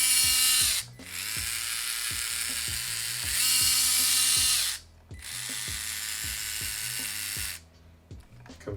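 Traxxas crawler fitted with stainless steel bearings and 40.3:1 crawl gears runs loudly, a high gear whine rising and falling in repeated bursts with clicking ratchet-like drivetrain chatter, close and alone.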